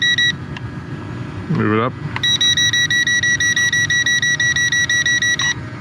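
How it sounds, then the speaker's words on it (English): Steady repeating electronic beeps from the transmitter of an Eachine EX5 drone, a Mavic Mini clone, sound loud and close as its camera is tilted, alongside a short rising whine and a person speaking briefly. "the beeping from the transmitter is super annoying"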